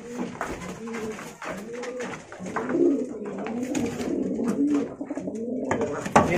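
Pigeons cooing in a cage, repeated low throaty coos rolling on continuously and close, with some handling noise and faint background sound.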